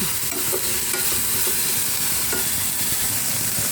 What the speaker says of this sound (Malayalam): അത് ഇളക്കി മിക്സാക്കി കൊടുക്കാം